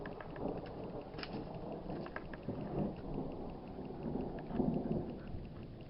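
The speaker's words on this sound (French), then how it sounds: "l'orage arrive" Low rumbling thunder from an approaching storm over poplar woodland, rolling in soft, distant swells under a faint patter of rain.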